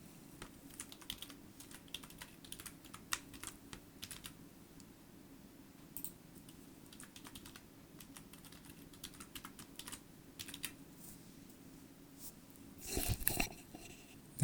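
Keys clatter steadily on a computer keyboard as a test password is typed during an Active Directory lab setup, a quiet close run of irregular clicks with a louder burst near the end.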